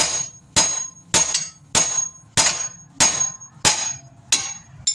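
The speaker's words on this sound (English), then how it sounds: "that's why Seth's getting a bigger hammer" A hammer strikes the axle of a 2008 Dodge Caravan eight times in a steady rhythm, each ringing clang decaying before the next, close and loud.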